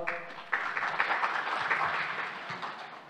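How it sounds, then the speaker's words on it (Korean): Conference audience at a battery industry session gives a short round of applause for an introduced speaker, a moderate, fairly even wash of clapping rising sharply then fading slightly, without talk over it. "박수 부탁드리겠습니다"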